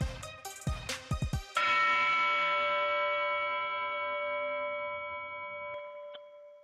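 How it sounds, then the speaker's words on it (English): A bell rings out after a quick run of sharp struck hits, then a single loud dong sustains and slowly decays over several seconds, heard alone with no voices. "Like the dong of a bell"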